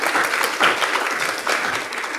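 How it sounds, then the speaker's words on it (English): Audience at a conference panel on Asia-Africa global footprints gives a round of applause, a brisk, dense patter of many hands clapping steadily for a couple of seconds. "let me just ask you all for an applause for our panel"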